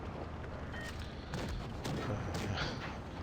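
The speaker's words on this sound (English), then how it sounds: "So, again, the gun is constantly reloading, and I am constantly shooting." KV-3 Soviet heavy tank firing its gun in World of Tanks Blitz, a few muffled booms over a steady rumbling battle background, with no talking.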